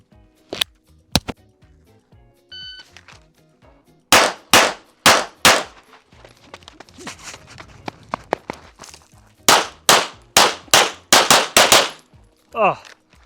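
Pistol gunfire during a shooting drill: a couple of early shots, then two quick strings of loud, close shots separated by a pause, with faint movement sounds between.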